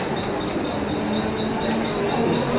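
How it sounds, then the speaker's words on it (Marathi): A passenger train on a rail line toward Karjat gives a steady, continuous rumble of wheels on track with faint high squealing tones, close and even throughout. "आपल्याला ट्रेन मिळालेली आहे."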